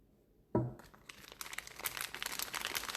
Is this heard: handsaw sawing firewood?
no